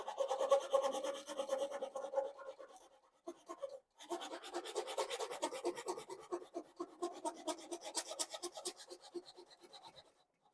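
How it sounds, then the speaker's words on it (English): A cross-cutting hand saw rips through wood in fast rhythmic rasping strokes, close and fairly quiet, with a brief pause before the strokes resume at a quicker pace. "you can cut really fast through wood with a cross-cutting saw"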